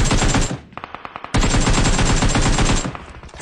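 Loud automatic gunfire from PUBG Mobile rattles in dense bursts, briefly breaking into a few separate shots before another sustained volley, with no talking.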